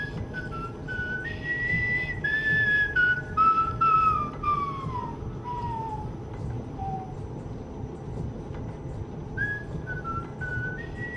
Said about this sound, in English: So, past the time, I'm gonna whistle to you folks.